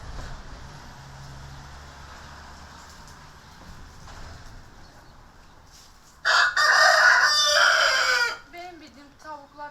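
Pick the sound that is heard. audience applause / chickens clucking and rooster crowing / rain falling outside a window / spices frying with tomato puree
chickens clucking and rooster crowing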